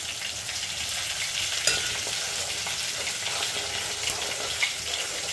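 Okra frying in a pan while being stirred, salt added, a steady close sizzle with occasional scraping clinks from the utensil throughout, no talking.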